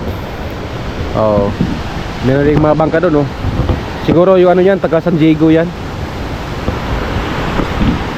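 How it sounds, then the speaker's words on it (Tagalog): Strong sea waves break on the shore in a continuous loud wash of surf with wind noise, while people talk over it. "Malakas pa rin ang alon"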